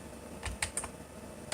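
A handful of quick keystrokes tap on a computer keyboard, close and fairly crisp, spaced irregularly in a quiet room.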